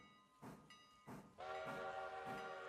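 A train in the video game Railroader rolls with repeated rhythmic chuffing bursts, then a sustained steady whistle-like tone with hissing continues, fairly loud and close, no talking.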